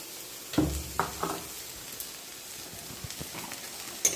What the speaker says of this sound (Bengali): ভেজে নিয়ে যেতে বললাম আদা রসুনটা দিয়ে দিলাম